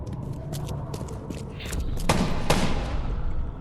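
Gunfire in The Sinking City on PS5, a muffled, dense spray of shots with a couple of louder blasts near the end, layered over a rumbling, noisy battle background.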